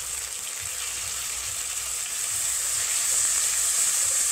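Spice paste of onion, ginger, garlic and tomato frying in oil in a pan, a steady close hiss and sizzle that grows slightly louder toward the end, with no talk.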